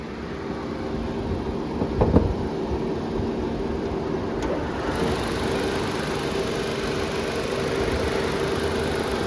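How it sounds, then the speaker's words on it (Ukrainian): A 2016 Nissan Juke engine idles steadily under the open hood with a constant low rumble and hum, one brief knock near the start, no voices. "ніяких посторонніх шумів, плям, рівна робота двигуна"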